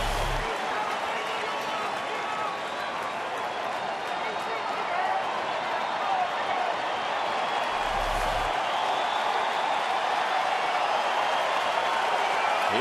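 Roar of a baseball stadium crowd of more than 31,000 at a Cleveland at Detroit game, a dense, steady wash of cheering and murmur heard throughout, with a broadcaster's voice talking over it.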